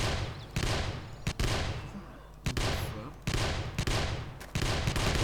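Rapid bursts of gunfire from the zombie survival game 7 Days to Die, loud, close and repeating in several sharp volleys with brief gaps between them.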